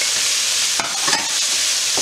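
Sofrito frying with dry seasonings in a caldero pot, a steady close sizzle broken by a few scraping stirs of a spoon midway.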